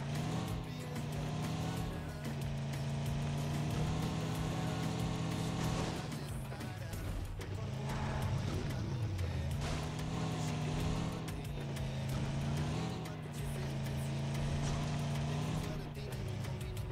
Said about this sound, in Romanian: Hai că sunt un conducător cu mașina asta.